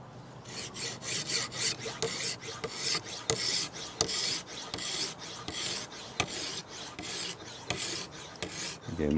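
A knife is sharpened on a 600 grit stone with a KMFS Vantaedge sharpener, in a steady run of close, gritty rasping strokes repeating about twice a second.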